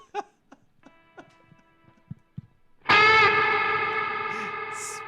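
A guitar runs through a reverb effects pedal: a few sparse picked notes and taps first, then a loud sustained chord swells in and rings out with a long, washy reverb tail.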